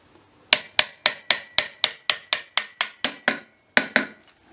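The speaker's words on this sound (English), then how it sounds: "give it a little whack to help it go home" Sharp hammer blows knock a rear roller assembly part into place on a Scott Bonnar 45 mower, about fourteen steady, evenly spaced strikes ringing close and loud with a brief pause near the end.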